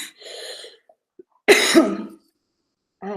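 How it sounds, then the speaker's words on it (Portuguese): Two separate bouts of coughing from a woman close to the microphone, each a harsh burst with a short throat-clearing quality, one around the middle and a brief one at the end, with quiet gaps between. "vou ter que tossir de novo, gente."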